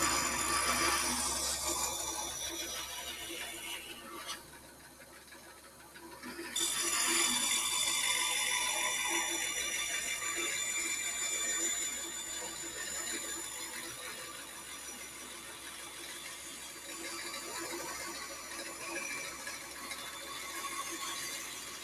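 A Blade Runner tabletop saw cuts out a wooden puzzle piece with a continuous loud mechanical buzz and rattle that dips briefly partway through, then resumes and runs steadily to the end.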